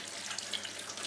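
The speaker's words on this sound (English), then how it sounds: "Now what you do is you wash each individual section. So I'll just wash that, for example." Tap water streams into a kitchen sink as sections of leek are rinsed under it, a steady close hiss and splash over the brief moment with no talking.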